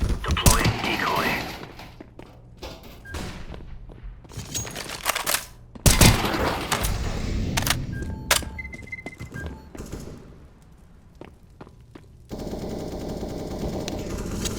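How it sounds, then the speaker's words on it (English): Grenade throws and a decoy grenade popping out fake gunshots during a casual Counter-Strike: Global Offensive match, with scattered bursts of rapid shots, dull thunks and sharp loud bangs separated by brief lulls, plus faint voice callouts. "Throwing fire. Grenade out. Deploying decoy."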